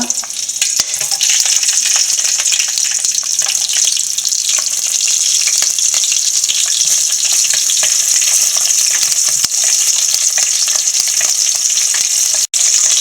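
Green chillies sizzle steadily in hot oil for a bitter gourd and carrot pickle, a dense continuous frying hiss with faint stirring scrapes and one brief clack near the end, no voices.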